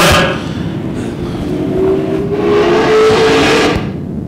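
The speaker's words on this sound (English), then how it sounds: "As they are all single file now, coming into turn three and four, Potasek right on the bumper of Lund." Race cars circle a dirt oval track, their engines droning and rising in a continuous pass-by roar at moderate distance, with a whining tone sweeping upward as cars come through the turns.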